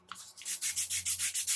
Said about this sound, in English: I've got all the bulk of the wood filler off and just sanding it down